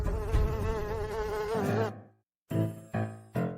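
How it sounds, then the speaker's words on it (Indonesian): Housefly buzzing close by during a martial arts scene: a steady, wavering drone that cuts off abruptly, then after a short silence three brief buzzing bursts, with no talking. "ada lalat di tubuhmu?"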